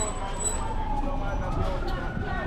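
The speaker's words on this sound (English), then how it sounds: "we hear the fire brigade truck. We hear the truck coming." A fire brigade truck approaches on a street in Morant Bay, St. Thomas, Jamaica, its steady low road rumble running throughout at moderate distance beneath people talking.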